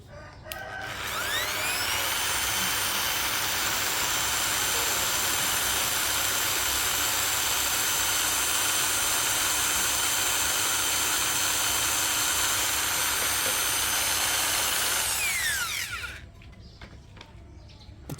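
A DongCheng DSP02-180S car polisher runs at its lowest speed setting, about 600 RPM, giving a loud, steady mechanical whine with a bright tonal edge. It holds for about fifteen seconds alone, then spins down and stops near the end.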